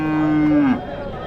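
A single loud, drawn-out moo from cattle at a livestock market, close and clear, trailing off into quieter background ambience.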